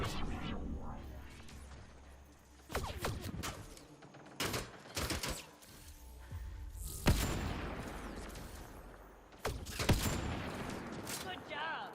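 Gunfire from a firefight in the sci-fi shooter Mass Effect Andromeda, with repeated sharp bursts and single cracks scattered over twelve seconds, close and loud amid impacts and a brief spoken remark.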